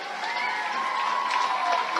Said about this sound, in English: Let's have a round of applause for the honorary captains and Mr. Bob Everett.